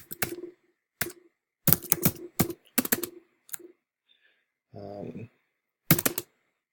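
Bursts of keystrokes clatter on a computer keyboard while a Gmail reply is typed, coming in quick irregular runs separated by short pauses, close and fairly loud, with a brief hum near the middle.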